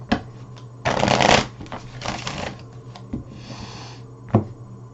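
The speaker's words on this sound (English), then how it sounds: "One more shuffle and then a cut." Tarot cards being shuffled in a few quick riffling bursts, close and crisp, with short pauses and light taps between them.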